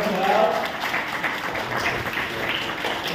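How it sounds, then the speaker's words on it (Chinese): Brief applause from guests at a Chinese-language Christian wedding ceremony, a short burst of clapping under and around a voice. "一下掌声。"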